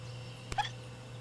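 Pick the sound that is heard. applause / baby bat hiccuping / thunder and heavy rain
baby bat hiccuping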